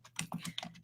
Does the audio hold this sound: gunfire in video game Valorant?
no